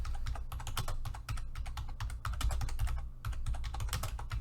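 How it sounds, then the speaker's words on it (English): Rapid, close keystrokes on a computer keyboard as a search is typed, a continuous irregular run of clicks with brief pauses and no talking. "Oh look, I'll just type in stress-strain diagram."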